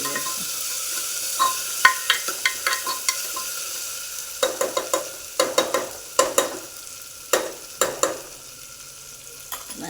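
Vegetables for spiced rice frying in a pan as a spoon stirs them, with irregular bursts of scraping and clattering against the pan over a soft steady sizzle, close by with no talking.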